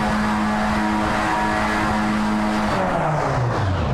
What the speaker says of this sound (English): You hear the engine start to harmonize.